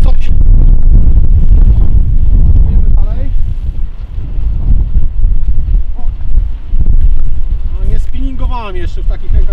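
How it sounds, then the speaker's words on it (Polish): Strong wind buffets the microphone on a frozen, icy harbour during winter zander fishing. It makes a loud, continuous low rumble with surging gusts, and a voice is faintly heard beneath it. "Wiatr jest taki, on akurat jest z tej strony."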